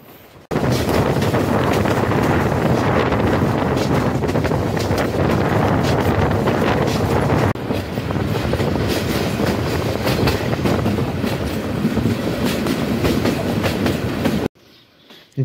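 Tista Express passenger train running in Bangladesh, near Gafargaon on the line from Dhaka: a loud, steady onboard rumble with wheel clatter and wind buffeting that holds for most of the stretch, with no talk.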